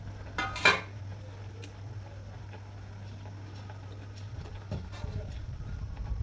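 A metal karai lifted off the stove and a steel plate handled for greasing with oil: a bright clatter early on, then a quiet stretch under a low hum, with a couple of lighter clinks toward the end.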